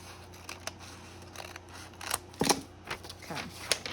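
Scissors cut paper for a junk journal in a series of close, crisp snips, sparse at first and then quicker and louder, with faint rustling between cuts.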